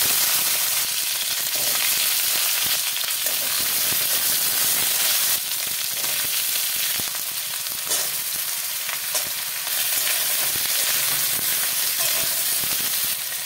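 Loud, steady sizzling of cut vegetables frying in hot oil with five-spice tempering, a continuous crackling hiss with occasional stirring clinks, no voices.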